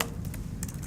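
Brief, scattered keystrokes on a computer keyboard, a few light clicks spaced unevenly and heard up close at low volume with no talk.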